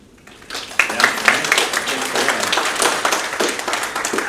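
Audience applause at an all-associate staff meeting, a dense burst of clapping that starts after a brief quiet moment and carries on steadily at moderate loudness throughout.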